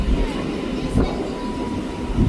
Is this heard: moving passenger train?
yes